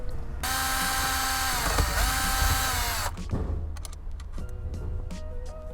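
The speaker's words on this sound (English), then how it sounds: "grab a magnetic screwdriver. There's a screw here." A powered magnetic screwdriver backs a screw out of a 2015 Lexus ES dashboard. A close, steady motor whine runs for about three seconds, followed by scattered clicks and light rattling as the part is handled.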